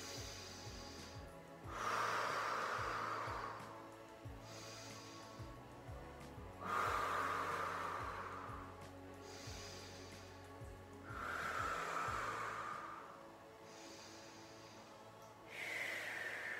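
Deep breathing during a seated yoga stretch, kneeling back on the heels with arms reaching forward: four slow, close, audible inhale-exhale cycles evenly spaced over about sixteen seconds.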